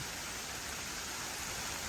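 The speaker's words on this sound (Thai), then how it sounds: "กูว่าฝนไม่หยุดแน่" Heavy rain falls outdoors as a dense, steady hiss that fills the whole moment evenly, fairly faint and unbroken, with no voices.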